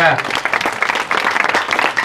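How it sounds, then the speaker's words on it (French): Audience applause for Stéphane Le Guidec at a cycling club rider presentation, a steady mass of clapping over about two seconds, fairly loud and even throughout. "On peut applaudir Stéphane Le Guidec."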